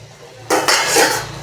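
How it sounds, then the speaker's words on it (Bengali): A lid lifts off a cooking pot of simmering tomatoes with a sudden metallic scrape and clatter, followed by a brief hiss of released steam, loud and close. "এবার আমি এই ঢাকাটা খুললাম।"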